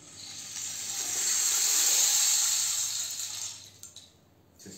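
Rain stick being turned, a steady soft hiss of trickling beads that swells and fades over a few seconds, quiet and close with no talking.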